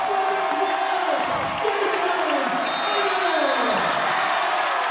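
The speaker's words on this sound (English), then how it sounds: "Crowd is on their feet." A basketball crowd on its feet at a college game cheers and whoops loudly and continuously, with a commentator's voice running underneath.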